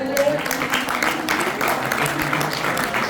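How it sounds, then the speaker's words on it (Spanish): A church congregation at a Father's Day service claps in applause for the Lord, a busy clapping texture heard along with voices in the room. "Dale un aplauso al Señor."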